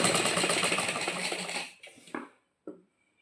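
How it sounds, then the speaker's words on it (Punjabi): Sewing machine running steadily as it stitches piping onto a garment sleeve, a dense continuous whir for about a second and a half, then stopping, followed by a few faint handling knocks. "ਹੁਣ ਆਪਾਂ ਇਹਦੇ ਬਿਲਕੁਲ ਉੱਪਰ ਉੱਪਰ ਸਿਲਾਈ ਲਗਾਉਣੀ ਆ"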